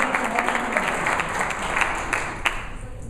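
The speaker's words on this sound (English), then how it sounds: "Everybody give Marilyn a round of applause." A Rotary club audience at a magic show claps for a volunteer, a fairly close, continuous patter of applause with a few sharper individual claps standing out, no talk over it.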